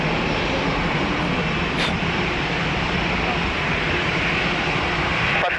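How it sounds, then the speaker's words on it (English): An airliner lands at Lisbon Airport with a loud, sustained roar of jet engines and rushing air that fills the whole stretch without a break. "What a nice landing"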